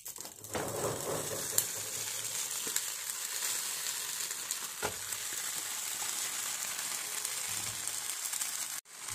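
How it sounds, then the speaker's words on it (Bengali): Fish fries with eggplant on an oiled banana leaf in a pan, giving a close, steady sizzle that runs unbroken with a few soft clicks and a sharp knock at the end. No one speaks. "এখন আমি এটাতে মাছটা"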